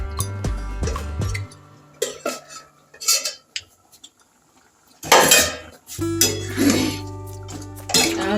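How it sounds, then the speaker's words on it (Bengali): A metal pot lid lifted off a pot during home cooking in a kitchen, giving several clinks and clatters of metal and cookware, with a louder rattle near the end and quiet kitchen noise between. "তো আমি ঢাকাটা খুললাম"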